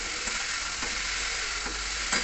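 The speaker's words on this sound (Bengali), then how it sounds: "আর গ্যাসটাকে এবার একটু হাই করে দিলাম, দিয়ে আলুগুলোকে লাল লাল করে ভেজে নিয়ে জল দিয়ে দেবো" Potatoes frying in a pan over a high gas flame, a steady loud sizzle with a few faint scraping stirs, no talking.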